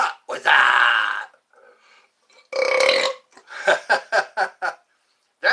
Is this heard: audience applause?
no